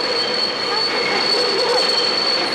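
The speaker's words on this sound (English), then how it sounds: "Oh, the train's coming." A subway train pulls into a station with a steady, piercing squeal of metal wheels on rail, loud and continuous, with no voices over it.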